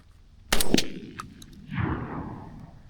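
A shotgun fitted with a turkey choke fires once as a single loud, sharp blast with a short ringing tail, followed by a softer rustle or shuffle a moment later; no talking.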